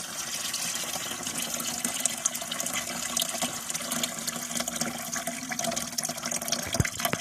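Lump lime slaking in cold water gives a continuous, fairly loud bubbling and hissing wash of liquid noise that holds steady from start to finish, with no voices.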